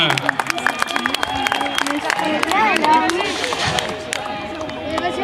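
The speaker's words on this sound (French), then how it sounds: "Mesdames, messieurs, on peut les applaudir très très fort." Audience at a race finish applauding finishers, scattered claps and cheers mixed with crowd babble and a whistle-like tone, fairly loud and busy throughout.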